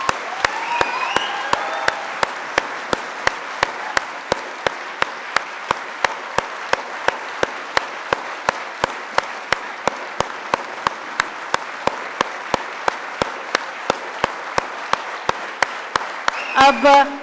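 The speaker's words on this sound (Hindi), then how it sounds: "तो इन तालियों की गड़गड़ाहट ने बता दिया कि जोश अभी बाकी है।" An audience at an Independence Day conclave breaks into sustained, thunderous applause, a dense wash of clapping that stays strong and steady from start to finish.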